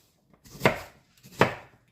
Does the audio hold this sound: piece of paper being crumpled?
no